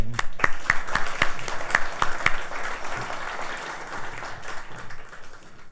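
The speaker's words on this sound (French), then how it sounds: "je vous demande d'applaudir Jyoti Jitan" Applause for Jyoti Jeetun as she is introduced: a moderate crowd claps steadily, with a few sharp, close individual claps standing out early and the ovation gradually thinning toward the end.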